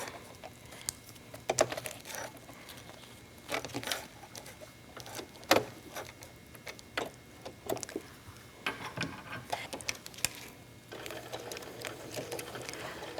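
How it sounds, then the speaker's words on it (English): A sewing machine with a non-stick presser foot stitches binding onto clear vinyl in short, uneven runs of rapid mechanical clatter, fairly quiet and close, with brief pauses between stretches of sewing. "And first I'm sewing the binding on."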